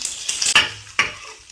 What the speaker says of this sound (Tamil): இதோட சேர்த்து வதக்கி விட்டுக்கலாம்.